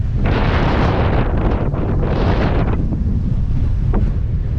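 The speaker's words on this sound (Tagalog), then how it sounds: "Pasensya na guys sa hangin kasi mahangin dito sa dagat ngayon" Loud, blustery wind buffets the microphone in rough gusts at Yong An port in Taiwan, with the wash of the sea beneath it and no talking.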